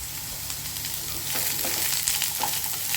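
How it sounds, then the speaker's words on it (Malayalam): Chopped potato and onion sizzle steadily in hot oil in a pan for a potato curry, a continuous close crackle that swells slightly midway, with no talking. "അരിഞ്ഞ് വെച്ച ഉരുളക്കിഴങ്ങ് ഇട്ട് നമുക്ക് മൂപ്പിക്കാം"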